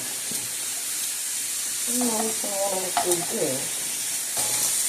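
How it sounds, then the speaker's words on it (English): Turkey wings searing in a lightly oiled pan, giving a steady close sizzle throughout while a voice speaks briefly over it. "we're just going to let these sear until they're nice and brown"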